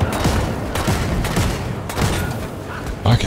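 Grenade blasts and gunfire in the Wolfenstein: Youngblood shooter, a rapid string of sharp bursts and booms over a few seconds, loud and close, with a heavier thump at the end.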